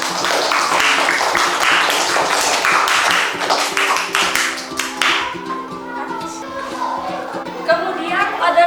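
A fifth-grade primary school class claps together in a dense burst of applause for several seconds, then it thins out and tails off to scattered taps over a faint background tone.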